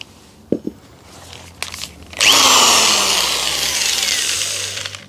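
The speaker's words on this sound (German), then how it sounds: "da kann ich ja das hier gleich mal in die Bohrmaschine anschließen" An electric drill spinning up after a few knocks and handling noises, then whining loudly and steadily at close range for several seconds before easing slightly, with no voices.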